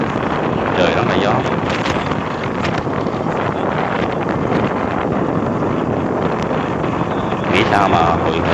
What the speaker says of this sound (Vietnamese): Trời rất là gió.